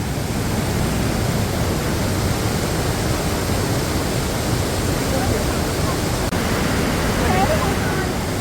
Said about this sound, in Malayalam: നമ്മൾ പോയത് നല്ല വെള്ളമുള്ള സമയമായതുകൊണ്ട് തന്നെ നല്ല വെള്ളച്ചാട്ടം ഉണ്ടായിരുന്നു, കുത്തൊഴുക്കും ഉണ്ടായിരുന്നു.